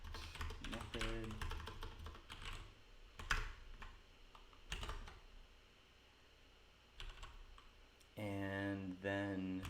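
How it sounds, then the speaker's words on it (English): Computer keyboard keys are struck in irregular bursts of close clicks and taps, with someone speaking at points in between. "My typing ain't so good."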